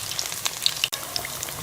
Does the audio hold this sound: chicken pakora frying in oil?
yes